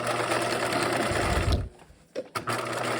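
Sewing machine topstitching around the opening of a backpack bag, running loud and steady before stopping, followed by a short gap and a couple of brief restarts.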